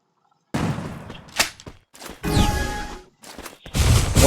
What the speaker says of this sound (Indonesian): Erik dan Arka sudah melakukan tembakan, 1 tembakan dan 2 tembakan dari seorang Erik masuk ke Arkan